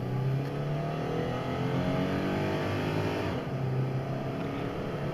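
A quick daily-driver car's engine runs loud and close, a steady throaty drone that rises and falls slightly as it revs, with no voices over it.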